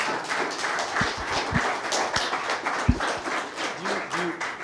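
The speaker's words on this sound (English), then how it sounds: "give him a round of applause" Audience applause at a money-from-home business talk, a steady wash of many hands clapping with a few sharp nearby claps and faint voices mixed in throughout.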